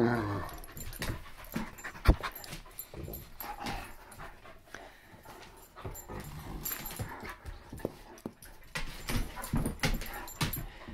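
Dogs pant steadily at close range with occasional soft whimpers and brief scuffling bursts, a continuous, moderately loud texture throughout.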